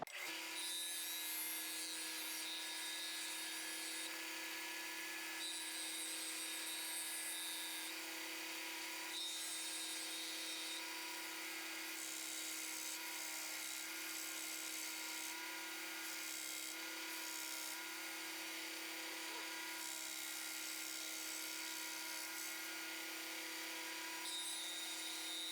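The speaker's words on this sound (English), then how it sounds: "we're going to go ahead and sand it down with the belt sander" A belt sander grinds down a Lebanon cedar inlay ring in a continuous, fairly quiet motor whine with a steady hum and a faint abrasive hiss running unbroken throughout, without any voices.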